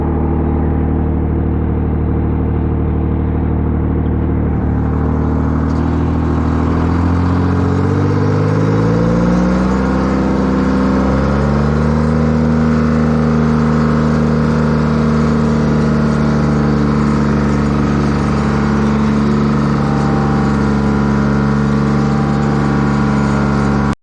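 A truck engine pulls a trailer through mud at a depot, revving up and holding a loud, steady drone close by, its pitch climbing and settling as the load moves, with no voices.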